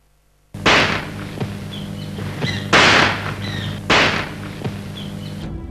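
Three sharp gunshots ring out in a crowd setting, loud and close, each a sudden broadband crack spaced about a second or more apart over steady background noise.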